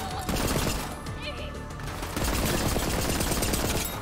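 Automatic gunfire in the video game Borderlands 3, dense rapid bursts filling most of the moment with a loud, continuous rattle and some game effects mixed in.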